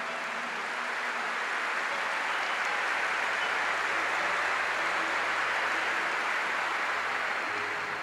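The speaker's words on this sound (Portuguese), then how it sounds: "E eu quero que vocês aplaudam essas pessoas que se entregam e gastam a vida." An audience applauds at a Christian gathering, a dense, steady wash of clapping from many hands that stays even and sustained from start to finish, with no speech over it.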